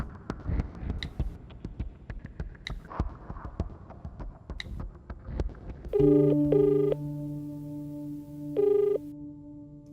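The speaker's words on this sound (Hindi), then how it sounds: "मणि को कॉल करता हूं।" A mobile phone rings out loudly in a steady electronic tone pattern after several seconds of busy, cluttered sound, with brief pauses between repeated ring bursts.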